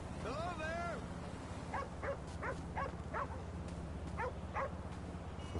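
A dog in GTA 5 gives a whiny yelp and then a series of short, evenly spaced barks over a constant low engine-like hum, at moderate distance.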